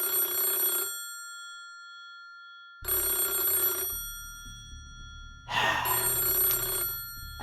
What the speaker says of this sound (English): As they spoke to one another, a phone rang nearby